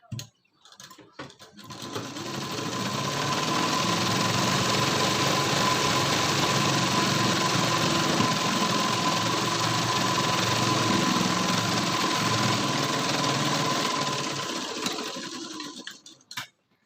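A sewing machine runs steadily for about thirteen seconds as it stitches a tip line along the lower edge of a boat-neck blouse. It starts with a brief hesitant burst, then holds a loud, even mechanical whir, and it is heard alone.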